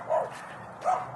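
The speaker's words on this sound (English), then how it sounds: "Neighbor dogs are barking." Neighborhood dogs barking twice at moderate distance in a backyard garden, two short separate barks with a pause between, no talk over them.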